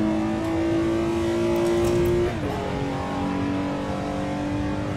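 A 1960s touring car in Assetto Corsa accelerates out of a turn, the engine droning steadily in the cabin, then dropping pitch on a gear shift and climbing again, with no talking.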